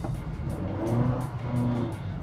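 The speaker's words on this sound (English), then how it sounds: "You can definitely hear a lot of the engine noise coming through the cabin from the engine bay." A 2023 Honda BR-V 1.5 S CVT accelerating, its engine drone carried into the cabin as a steady, fairly loud hum with no talk over it.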